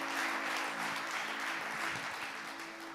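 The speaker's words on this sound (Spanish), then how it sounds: "Dele fuerte aplauso." A congregation claps through a church service, a steady wash of applause held at an even level, with a sustained tonal hum beneath it and no voices.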